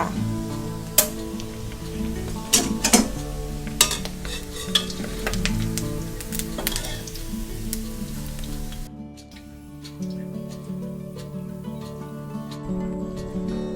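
Pork belly frying with garlic and pepper in a pan, stirred with repeated scraping and clinking strokes over a dense, crackling sizzle; close and fairly loud, the frying settling to a softer hiss near the end.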